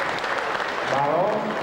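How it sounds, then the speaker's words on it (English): Audience applause fills a pageant hall for the contestants of the 1999 Miss South Pacific Pageant, a dense, steady clapping wash with a voice briefly talking over it. "give our contestants with their talents a big round of applause"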